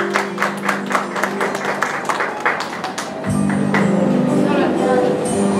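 Guests clapping at a quinceañera party, a rhythmic burst of claps that gives way to a denser, steadier round of applause with music or chatter behind it.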